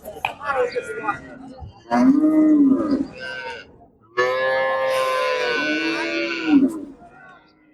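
Cattle at a livestock market in Tangail low out in two long, loud moos close by, the second one held and rising, with brief voices and market clatter between them.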